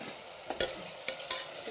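Cauliflower, bottle gourd, potato and carrot go into a pan for vaghareli khichdi, and a soft sizzle is broken by a few quick stirring clinks and scrapes. The sound is close but faint, with no talking.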